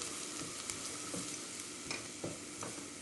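Flour roasts in a pan for a spicy bulgur soup, giving a soft, steady sizzle with occasional light stirring scrapes, close and fairly quiet.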